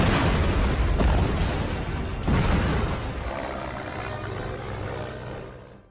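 An airfield blows up in a war film, a loud, deep booming roar that rolls on for several seconds before slowly fading out.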